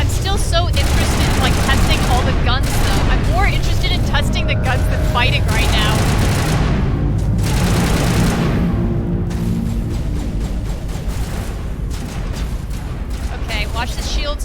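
Rapid weapon fire and blasts in the Mass Effect Legendary Edition video game, with dense bursts of shots and explosions under steady in-game chatter and voices throughout.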